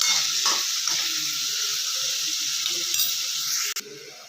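Onions sizzle steadily in a hot frying pan, a dense, even crackle that runs throughout, with a brief stirring break near the end.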